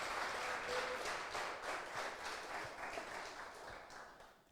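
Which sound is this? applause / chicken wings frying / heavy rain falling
applause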